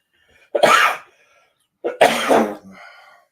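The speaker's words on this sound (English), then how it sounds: "I'm going to cough and sneeze." Two loud, close bursts a second apart, each a sharp explosive cough or sneeze, with quiet between them.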